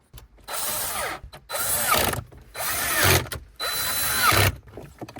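A power driver runs screws into a Jeep Renegade dash during a car stereo install, four close bursts of whirring motor with ratcheting texture, separated by brief pauses.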